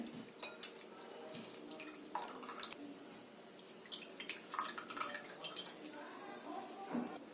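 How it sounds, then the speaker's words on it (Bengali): Soaked soya chunks squeezed by hand over a bowl, the pressed-out water dripping and splashing in small irregular bursts, close and fairly faint, with light kitchen clatter of a bowl now and then. "সোয়াবিনের জলটা আমি চিপে একটা অন্য বাটিতে নিয়ে নেব ভালো করে নিংড়ে জলটাকে বের করে নিতে হবে"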